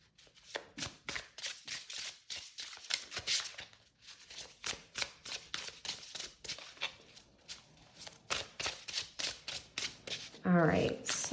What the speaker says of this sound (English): let's see how riffle shuffling this is on camera